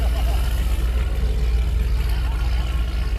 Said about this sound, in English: Fun old truck here coming through.